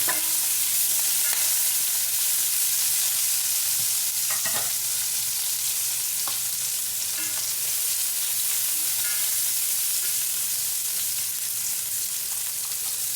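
Onion sautés and sizzles in a pan for chicken-heart and bitter melon stir-fry, a steady bright hiss of frying with occasional stirring clinks and scrapes, no talking.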